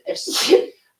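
A single sharp human sneeze, close and loud, bursts out and ends within about a second, with no other sound around it.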